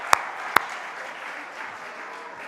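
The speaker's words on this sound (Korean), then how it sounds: "하나님께 영광과 감사의 박수" A church congregation at a Wednesday night worship service breaks into a dense wash of applause, opened by two sharp nearby claps, then sustained clapping from many hands that slowly softens.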